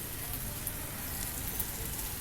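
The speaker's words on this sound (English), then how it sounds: "It's raining everywhere." Steady rain pouring down outside houses, a dense, even wash of close patter that holds without pause, with no voices.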